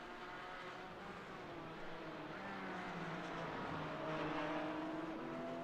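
Porsche GT4 race cars in a sim racing game at Zandvoort, their engines droning steadily with rising and falling revving tones as two cars battle closely, continuous and loud throughout.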